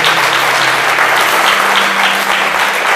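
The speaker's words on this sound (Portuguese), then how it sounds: "Dê um grande aplauso ao Senhor" Strong congregational applause in a Brazilian Baptist church service, a sustained even roar of clapping with a low hum beneath it.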